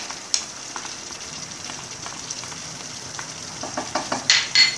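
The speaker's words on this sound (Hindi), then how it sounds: "अब इसी में प्यूरी ऐड हो जाएगी।" Tomato puree going into chicken masala frying in a pan for butter chicken, a steady loud sizzle with a few sharp pops and crackles that grow busier toward the end.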